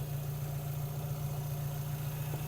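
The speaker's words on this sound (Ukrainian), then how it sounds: "Двигун працює чітко" An Audi A3 engine idles steadily with a low, even hum and faint mechanical vibration, close by and uninterrupted.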